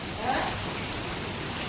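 A midnight hailstorm at a family home gives a dense, steady patter of hitting hailstones, close and continuous, with no voices.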